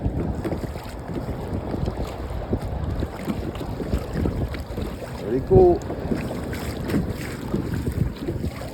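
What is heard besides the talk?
small boat motor moving through wind and waves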